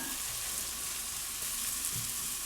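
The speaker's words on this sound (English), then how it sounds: "And here's our asparagus and onion. And I'm going to saute this until the onion looks translucent." Asparagus and onion sauté in a pan with a steady, close sizzle and soft crackle that holds even throughout, with no talking.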